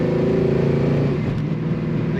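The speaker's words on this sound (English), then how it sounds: "Pushing that throttle down." A 1969 Oldsmobile 442 with an automatic transmission accelerating hard under full throttle, its engine and exhaust a loud, steady low roar that rises slightly in pitch, heard continuously from inside or near the car.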